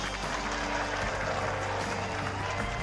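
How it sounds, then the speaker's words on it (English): Dense, sustained applause from a large crowd honoring Nigel Mansell, the 1992 Formula One world champion, at a Williams Red 5 event in 2023; the clapping is steady and full throughout, with some crowd noise mixed in. "Massive round of applause for the 1992 world champion, Nigel Mansell."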